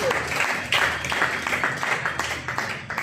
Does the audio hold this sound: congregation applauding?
yes